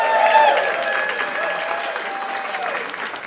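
A theatre audience at a live comedy podcast recording applauds and cheers loudly, the clapping strongest at the start and easing slightly while whoops and crowd noise carry on.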